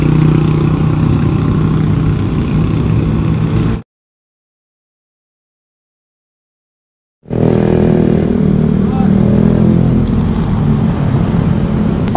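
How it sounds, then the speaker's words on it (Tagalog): Motorcycle taken for a short test ride after a roadside repair, its engine running steadily and fairly loud, cutting out completely for a few seconds before the motor noise returns. "I-testing mo muna yung bike mo para sureball tayo na makaka-uwi kayo."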